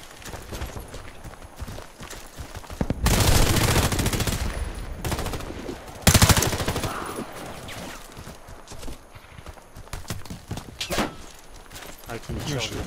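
Machine gun fire in the shooter Warface comes in two loud bursts amid ongoing match noise, with players talking in French over the action.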